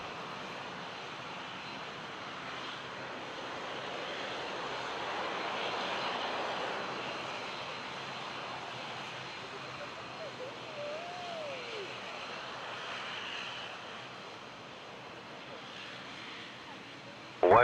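A heavy Boeing 737 bound for Reykjavik produces a steady, moderately loud jet engine roar that swells gently and then holds, with faint radio chatter in the background.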